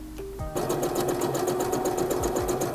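A sewing machine stitching knit fabric runs at a fast, steady whirring pace close up after a few brief starting clicks.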